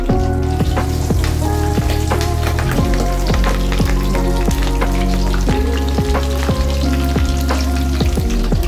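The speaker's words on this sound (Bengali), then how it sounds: "এবার লাউ পাতাতে আমি ইলিশ মাছ ভাজছি" Hilsa fish wrapped in bottle gourd leaves with poppy seeds frying in oil, a loud, close, continuous sizzle with frequent sharp crackles over a steady tonal backing that sounds like music.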